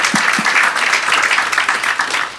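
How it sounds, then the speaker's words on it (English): An audience at a digital health design event gives the panelists a loud, close round of dense clapping that stays strong for the whole moment. "Give them a big round of applause."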